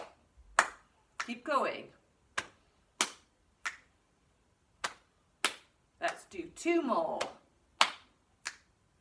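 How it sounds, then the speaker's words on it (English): Sharp slaps, claps and finger snaps in a steady body-percussion rhythm, close and crisp, with a person talking briefly between the hits. "Slap, clap, click again."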